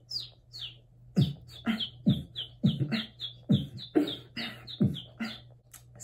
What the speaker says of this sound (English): today's tutorial is a tutorial on the tooth whistle